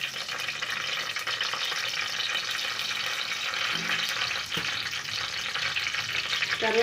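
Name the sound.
whole biryani spices frying in a pan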